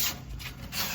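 Sandpaper rubbing by hand over the surfaces of a classic car engine bay during prep, a steady close rasping that swells and dips in broad strokes for about a second with no voices.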